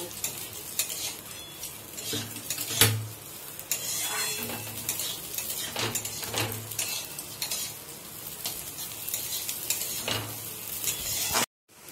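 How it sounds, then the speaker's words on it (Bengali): Washed parboiled rice dry-fries in a pan, stirred steadily with a utensil that scrapes and taps the metal over a soft sizzle; the strokes come in an uneven rhythm, close by, before the sound cuts off abruptly. "তো চালটাকে আমি একটু ধুয়ে ভেজে নেব।"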